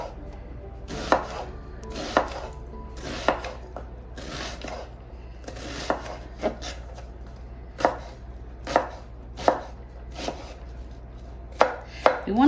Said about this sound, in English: I'm going to go ahead and chop up this onion